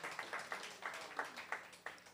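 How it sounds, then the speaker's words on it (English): Scattered clapping from a hackathon audience cheering prize winners: a handful of distinct, faint claps in an uneven rhythm, fairly distant and thin. "Some round of applause, please."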